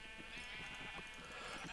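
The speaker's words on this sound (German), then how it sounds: "Deshalb entschafen wir uns jetzt und werden die Schafe los." A sheep bleating in Minecraft, one continuous wavering bleat heard over steady game background noise, moderately loud and alone.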